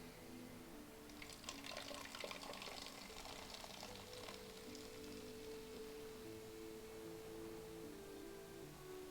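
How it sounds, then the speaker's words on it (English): Soda pours from a can into a bottle, a faint, steady trickling and fizzing stream with a bubbly burst early on, continuing quietly alone against a soft background hum. "did just carefully pour a can of soda into this bottle"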